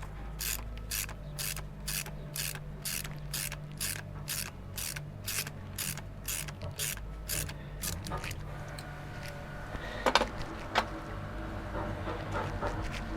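Rapid regular ratcheting clicks as a long thread is unscrewed during repair of a Kubota K008 mini excavator, a steady train of sharp ticks that stops midway, followed by faint mechanical knocks and a quiet voice.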